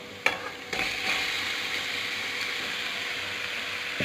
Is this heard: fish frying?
yes